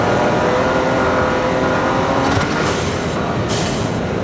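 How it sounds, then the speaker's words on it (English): A Ford Raptor fitted with a Turbosmart blow-off valve rumbles steadily while the valve vents in two short, sharp hissing bursts over the engine and road noise. "So it does sound pretty sick with the blow-off valve."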